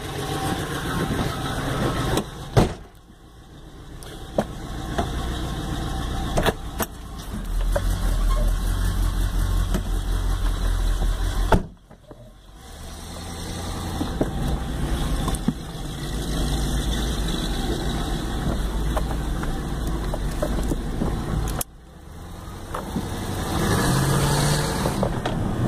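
A 1989 Chevota swap truck engine drones loudly while driving, rising through long pulls with brief dips at gear shifts, heard close from inside the cab.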